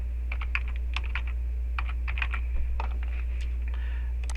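Computer keyboard keys tap in small irregular clusters, close and clear, over a constant low electrical hum, with short gaps between bursts and no voices.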